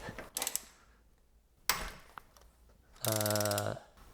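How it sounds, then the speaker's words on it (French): A ratchet wrench loosens a nut on a Kawasaki ZX6R 636 motorcycle during teardown. A few brief clicks and one sharp knock come first, then a loud, close, steady ratcheting burst lasts under a second near the end. "Puis là, on va utiliser du coup la clé à cliquer. On va mettre comme ça, bim, et je vais réussir à desserrer"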